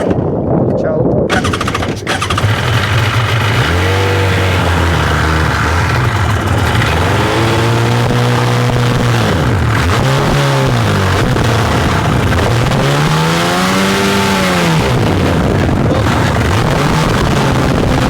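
A Suzuki GSX motorcycle engine runs after carburetor adjustment with the choke pulled partway out. It runs loud and continuously, its revs swelling up and down several times.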